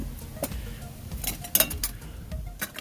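Metal camp cookware and a GSI cup clinking and knocking together as they are nested, a few sharp clinks standing out over low handling rustle, close by.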